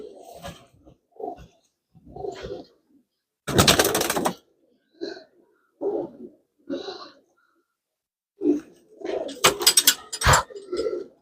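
Pigeons coo softly in short low bursts while wings flap loudly in two sharp flurries, close by, as the birds are handled during deworming.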